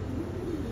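Soft, low cooing from a racing pigeon, a brief murmuring call close by against quiet background noise, with no talk.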